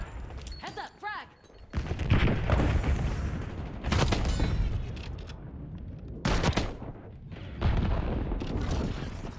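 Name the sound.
frag grenade explosion and gunfire in a video game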